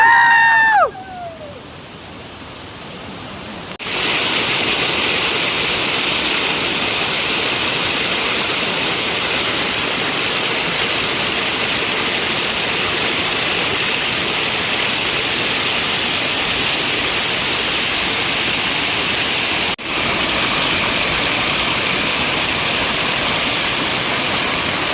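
A hidden waterfall near Dapoli rushes loudly and continuously at the start of the Konkan monsoon, a dense, unbroken roar of falling water, preceded by a brief whistle-like call and a quieter moment.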